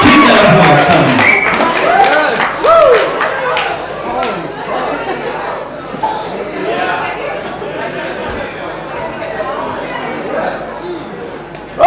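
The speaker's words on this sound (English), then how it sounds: "Keep that applause coming." Audience at an English-language poetry event claps for a poet, a dense steady patter of many hands with crowd chatter mixed in, holding for several seconds before thinning slightly.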